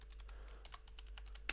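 Someone types a command into a MySQL server on a computer keyboard, giving quiet, quick irregular key clicks over a low hum and ending with one sharper keystroke.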